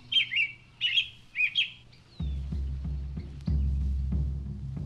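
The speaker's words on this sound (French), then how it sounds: "Seul le chant de cet oiseau lui apportait un peu de réconfort." A robin sings in three short, bright chirping phrases spaced close together, fairly near. A low, throbbing drone then takes over and continues under it.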